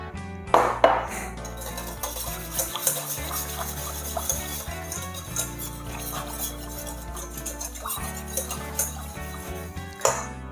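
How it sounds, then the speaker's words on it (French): A whisk or spoon clinks repeatedly against a bowl as lemon juice is mixed into a sauce base for blanquette de veau (veal stew), close up and fairly quiet, with a few sharper knocks near the start and end. "je mélange bien pour pas qu'il y ait de grumeaux"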